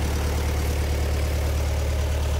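A Kubota M6040 farm tractor stuck in mud idles nearby, a loud, steady low diesel drone with even rhythmic pulsing and no voices.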